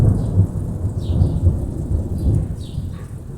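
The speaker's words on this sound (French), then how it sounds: "Ce sont toujours splendides des orages." A thunderstorm with steady rain and low, rolling rumbles of thunder that swell and fade throughout.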